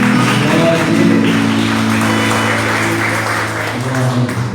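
A church congregation applauds during a Sunday evening service, a dense, even wash of clapping with a low sustained organ or keyboard tone underneath.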